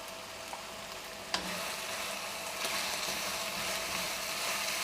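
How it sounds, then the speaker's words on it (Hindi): Ground spices (black pepper, turmeric, coriander powder) frying in a pan for beef aloo keema, a steady close sizzle with a brief clatter of stirring near the start and no talking. "मसालों को अच्छी तरह हम भून लेंगे।"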